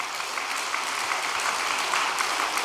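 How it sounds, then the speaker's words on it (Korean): Church audience applauding a pastor: dense, even clapping from a large group, steady and fairly loud for the whole stretch with no talk over it. "이 해남의 발전을 해놓고 간 우리 김기성 목사님께 다시 한번 박수 좀 보내주시기 바랍니다"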